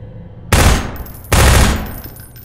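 Automated bunker turrets in Half-Life 2 let off two loud, close bursts of rapid gunfire, each about three quarters of a second long, separated by a short pause.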